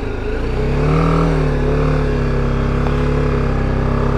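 A motorcycle engine revs loudly and close on an off-road section in Kashmir, holding a strained, rising pitch before settling to a steady high drone, with no talk.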